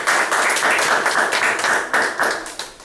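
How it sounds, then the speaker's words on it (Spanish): A church congregation claps together during a worship service, a loud, close burst of hand claps with uneven swells that tapers off near the end. "Denle un aplauso al Señor"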